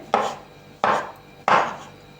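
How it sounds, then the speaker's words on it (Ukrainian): Three crisp knife strokes through champignon mushrooms on a cutting board, evenly spaced about two-thirds of a second apart, close and clear with nothing else around them. "А також нарізаємо гриби печериці"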